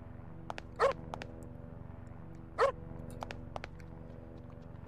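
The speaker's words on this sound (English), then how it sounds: "Because Flint is a magic dog." Dog barking in the Parasite Eve 2 video game: two loud, sharp barks a couple of seconds apart, with a few short clicks over a steady low hum.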